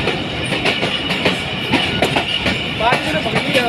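The Mehr Express passenger train rolls past at Thal near a thermal power plant, with a loud, close, continuous rumble and rhythmic clickety-clack of wheels over rail joints, plus a brief metallic squeal near the end.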